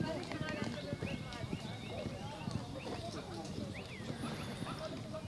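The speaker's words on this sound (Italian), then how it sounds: "Per adesso sembra non abbiano intenzione di fermarsi i due cavalli." Two racehorses gallop together on a training track, their hoofbeats drumming in a rapid, continuous rhythm while a commentator talks over them and birds chirp in the background.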